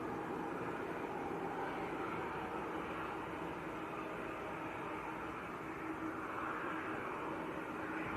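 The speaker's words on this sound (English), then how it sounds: "Ryanair on today's favourite taxiway." A Ryanair airliner taxis at Manchester Airport, its engines a steady, distant broadband roar and whine that hold level throughout with no talk over it.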